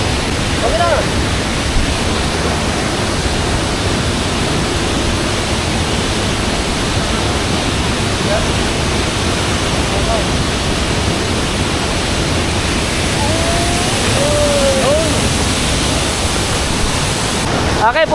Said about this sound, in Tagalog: Welcome to waterfalls!